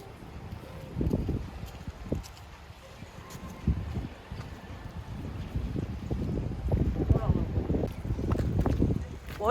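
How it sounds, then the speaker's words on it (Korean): Strong wind buffets the microphone in gusty, rumbling bursts outdoors on Jeju, growing stronger toward the end, while people talk throughout. "진짜 바람이 너무나도 많이 불고"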